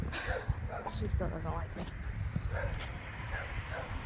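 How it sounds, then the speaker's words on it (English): A neighbor's dog gives a few short barks and yips at a moderate distance outdoors on a chilly morning, mostly buried under close conversation. "That's the neighbor's dog."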